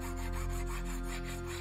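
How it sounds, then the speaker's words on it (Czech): Coarse files rasping over a cast metal blade, a steady run of quick, rhythmic back-and-forth strokes, close up and with no talking. "Odlitou čepel je třeba brousit nejdříve hrubšími pilníky a pak jemnějším smirkovým papírem."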